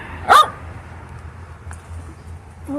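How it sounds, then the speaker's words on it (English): A dog gives one sharp bark near the start, close and loud, followed by quiet outdoor background with faint low rumble. "All right, you don't need to bark."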